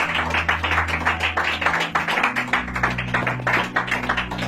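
A congregation at a Spanish-language church service claps for the Lord, a dense, steady patter of many hands sustained throughout, with a low organ-like hum droning underneath.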